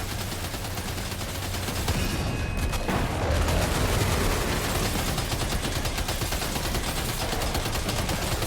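Sustained, dense machine gun fire from a weapon in the video game Death Stranding 2, a loud continuous rattle of rapid shots that runs almost the entire stretch with no pauses.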